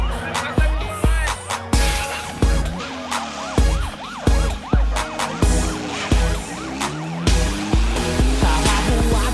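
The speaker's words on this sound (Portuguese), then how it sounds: "De repente ouvi sirenes, era perseguição" Wailing sirens rise and fall over a pounding music beat, loud and continuous throughout.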